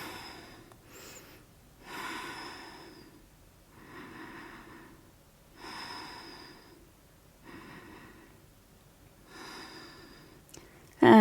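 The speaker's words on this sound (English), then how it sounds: "Breathing here." Slow deep breathing during a yoga pose, audible inhales and exhales alternating in an even rhythm of about two seconds each, close and fairly soft, ending with a brief louder sound.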